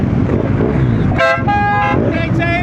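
Street traffic in Maguindanao with car horns honking: a few loud, drawn-out toots stand out over a steady rumble of road noise, with voices talking beneath.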